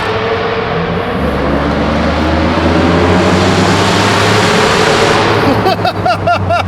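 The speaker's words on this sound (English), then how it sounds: "That sounds like an Aventador!" Loud, close V12 car engine with aftermarket exhaust revs and holds a raw, rasping drone likened to a Lamborghini Aventador, then burbles and crackles as the revs drop.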